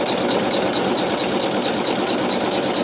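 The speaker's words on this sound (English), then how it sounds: "it's going to sew a zigzag to hold it in place" A sewing machine stitches a zigzag over wool, giving a loud, close, steady mechanical whir with a fast even needle rhythm and no pauses.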